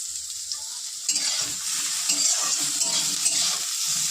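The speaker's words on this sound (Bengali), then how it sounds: "তো চলো বেগুনটা ভেজে নিই।" Eggplant pieces frying in a pan, a steady close sizzle with intermittent scraping and stirring clatter throughout, no talking.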